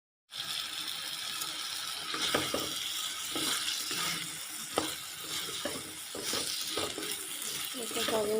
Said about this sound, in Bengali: সবগুলো আস্তে আস্তে কষানো হতে থাকে